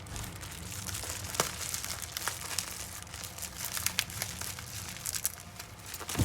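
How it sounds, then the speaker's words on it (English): A plastic bag of charm supplies being opened, with dense crinkling and tearing rustle close by, a few sharper crackles standing out, steady throughout with no talk. "y'all see how I'm opening up my bag"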